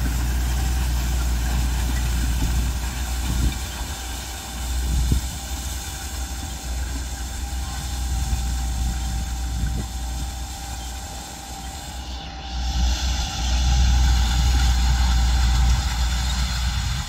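A tractor pulling a KF seed drill across a field while seeding a cover-crop mix, a steady low engine drone that swells and eases slightly as it runs, loud and continuous with no talk.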